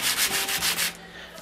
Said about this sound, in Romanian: Și încep cu șmirghel de 180